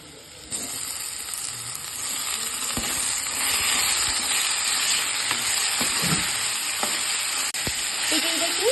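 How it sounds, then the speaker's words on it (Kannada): Onion and tomato fry in a pan for egg curry with a loud, steady sizzle and hiss. Occasional stirring knocks and scrapes cut through the sizzle, and no one speaks. "ಈಗ ಇದು ಫ್ರೈ ಆಗ್ತಿದ್ದ ಹಾಗೆ ನಾವು ಈರುಳ್ಳಿಯನ್ನು ಹಾಕಿಕೊಳ್ತಾ ಇದ್ದೇವೆ"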